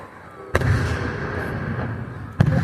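Fourth of July fireworks burst in two sharp, booming reports about two seconds apart, each followed by a long rumbling crackle and echo that fills the open night air.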